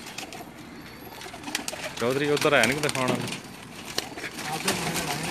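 Pigeons coo on a Jeddah rooftop, their soft calls running beneath someone speaking nearby, with a distinct whistling bird call rising and falling in the middle.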